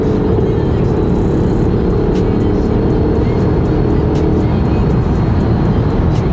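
A Mercedes-AMG GLS 63 engine holds back the big SUV on paddle downshifts, a loud continuous low growl with shifting pitch, heard up close from the cabin with steady road noise beneath.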